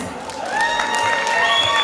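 Clapping from an audience at an event honouring dancers, rising after a quiet start into steady applause mixed with crowd noise, and faint tones running through it.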